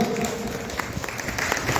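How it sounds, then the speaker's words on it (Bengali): An audience applauds at a music event, steady clapping from a crowd that holds at an even level throughout the short burst. "জোরে হাততালি হয়ে যাক।"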